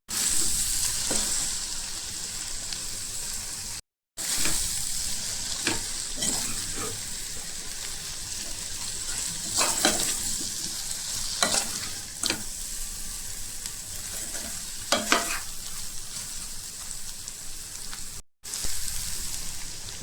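Vegetables sizzling in a pan for sweet corn pulao, a steady crackling fry broken by repeated scraping strokes of a spoon stirring, close and moderately loud with no talk.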